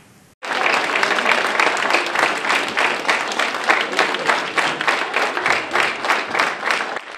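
Council deputies give a standing ovation during a session: loud, sustained applause that starts abruptly and gradually settles into rhythmic, partly synchronized clapping.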